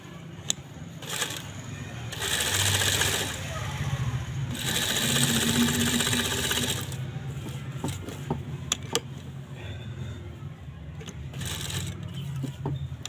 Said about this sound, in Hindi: पैर की सिलाई लगानी है,